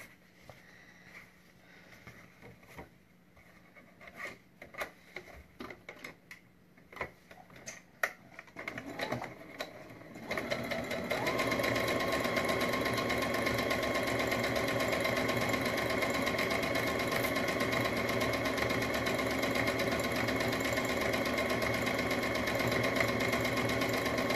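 A sewing machine top-stitches a fabric pencil case. Some scattered clicks and short bursts come first, then a steady, close mechanical whir runs continuously for the rest of the clip with no talking.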